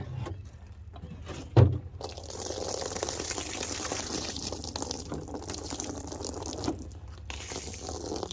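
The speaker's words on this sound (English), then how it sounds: "swish it around. Make sure we get those last little bits. Oops. And then we're just going to dump." Liquid being dumped out of the fuel tank of a 2007 Kawasaki Vulcan 1500 Classic, a sustained splashing, gurgling pour that begins with a sharp knock and runs steadily for several seconds.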